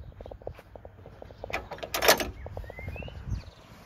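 Metal clamps on the pop top roof of a 1982 VW T25 Devon campervan are released, giving a sharp clack and rattle amid quieter handling clicks and knocks, close by.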